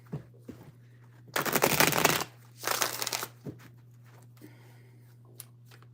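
Tarot cards are shuffled in two loud, close bursts of dense riffling, with a steady low hum and a few light taps around them.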